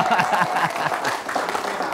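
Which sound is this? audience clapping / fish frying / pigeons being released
audience clapping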